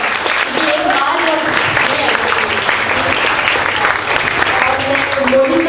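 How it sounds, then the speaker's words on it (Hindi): Loud, dense applause from a crowd at a gathering, sustained clapping filling the whole stretch with a faint murmur of voices mixed in. "सब लोग उनका जोरदार तालियां बजाएं"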